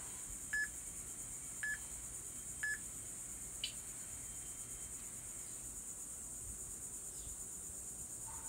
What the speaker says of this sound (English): Timer's going crazy,